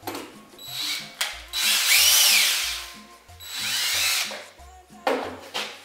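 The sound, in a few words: power drill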